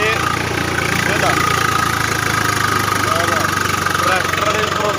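A tractor engine with a fault idles loudly and steadily up close, a continuous low rumble with a slight knocking vibration running unbroken throughout.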